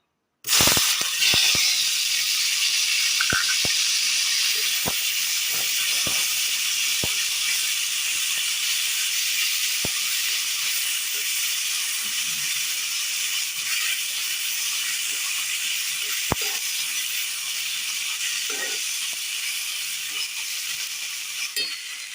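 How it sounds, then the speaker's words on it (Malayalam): Chopped tomatoes drop into hot oil in a pan on a Kerala kitchen stove, giving a steady, fairly loud hiss and sizzle that holds for the whole stretch, with a few faint clicks and stirs underneath and no talking. "ഈ എണ്ണയിലേക്ക് തക്കാളി അരിഞ്ഞത് ഇട്ട് കൊടുക്കാം."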